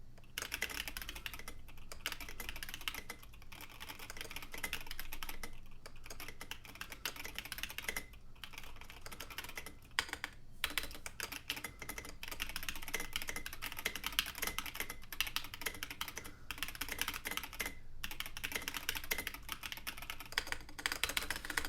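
A mechanical keyboard fitted with lubed Red switches is typed on continuously, a dense patter of muted keystrokes with occasional brief pauses, close and clear with no talking.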